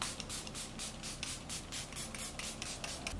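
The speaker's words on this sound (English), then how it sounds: "I'm gonna spray my face with the MILANI Make It Last Spray" Repeated short hissing bursts of makeup setting spray misted onto a face, about a dozen quick pumps in a steady rhythm, close and fairly soft.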